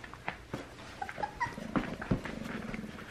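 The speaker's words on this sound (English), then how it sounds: "He always growling in his sleep back there." A three-week-old American bully puppy growls and whimpers softly in its sleep, giving a few faint, short bursts close by.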